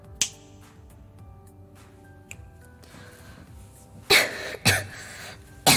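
Sharp finger snaps ring out, one early and then a quick cluster of two near the end, with a small click between them and quiet room tone around them.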